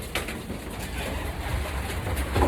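Racing pigeons coo softly and steadily in the hen section of a breeding loft, with low, continuous murmuring and a brief louder call near the end.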